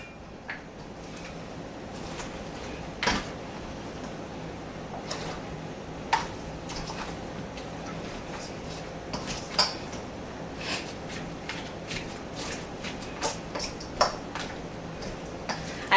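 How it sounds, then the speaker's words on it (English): A utensil stirring garlic and green onion in a pan, scraping and clinking in a run of light irregular taps that grow busier toward the end, close and fairly quiet. "So I'm gonna go ahead and add this to my pan. So I'm gonna stir."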